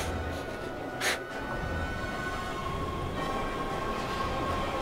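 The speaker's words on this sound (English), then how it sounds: "Is there any train coming so I can jump on it?" A train rumbles past in the video game Heavy Rain, a steady, loud mechanical roar with a sustained tonal whine and a brief burst near the start, without talk.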